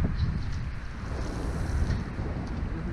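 Wind blowing by the Maribyrnong River during fishing: a steady, gusty rumble buffeting the microphone for the whole stretch, with faint hiss above it and no talking.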